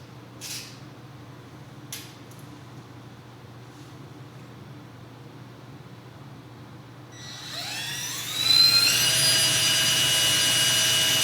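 A small electric screwdriver whirs up and drives a screw while a one-string diddley bow guitar is being built, a rising high motor whine near and steady after a quiet stretch with a couple of faint taps.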